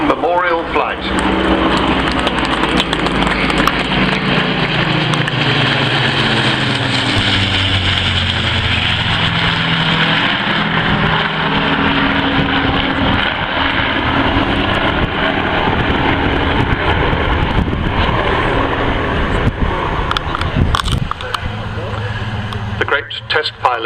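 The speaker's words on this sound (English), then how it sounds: "So here they are, the Royal Air Force Battle of Britain Memorial Flight" Propeller warbirds of the RAF Battle of Britain Memorial Flight passing overhead at the Cosford air show, a loud sustained piston-engine drone that rises and falls in pitch as they fly by, with a voice talking over it.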